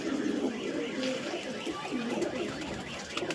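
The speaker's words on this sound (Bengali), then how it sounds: "এটা মালয় পায়রা, ধান্যওয়ালা ব্লাড লাইনের পায়রা আছে" Malay pigeons, dhanyawala bloodline, coo in a low, continuous rumbling murmur that sits close and fairly loud, with someone talking over it throughout.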